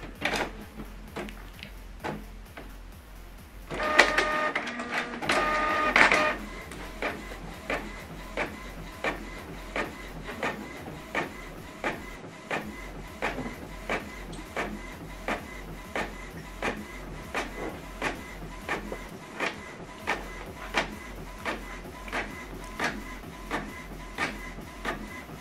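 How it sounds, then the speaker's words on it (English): A Canon or HP printer prints a PDF document double-sided, whirring as paper feeds in with a louder burst of motor noise, then ticking in a steady, evenly spaced mechanical rhythm close by, with no one talking. "Now this document now is going to print out here."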